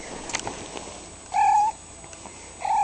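A pet cat, a female playing with a ball, gives two clear meows a second or so apart, close and fairly loud in a quiet room, with soft rustling between them.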